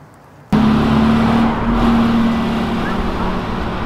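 Engine of an old 1967 Corvette starts up abruptly and runs loud and close with a steady low rumble and droning hum, holding a continuous idle throughout with no talk.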